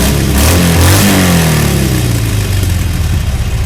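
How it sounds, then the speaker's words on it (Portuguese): Motorcycle exhausts roar at a gathering of dozens of riders, a loud, close, deep engine rumble with a sweeping rev that settles into a steady throb. "Teve ronco dos escapamentos para todo lado"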